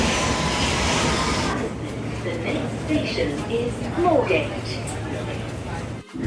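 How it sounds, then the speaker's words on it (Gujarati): A London Underground Hammersmith & City line train pulls into the platform with a loud rushing roar that eases into a steady hum. People talk over it. "તો આવી ગઈ મારી first train, હેમરસ્મિથ and city line"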